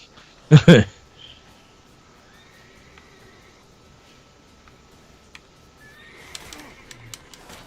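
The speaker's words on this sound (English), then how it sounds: "the horse's name is Roach, which is really funny." A horse in The Witcher 3: Wild Hunt gives one short, loud neigh near the start, followed by quiet ambience with faint bird calls and soft background sounds.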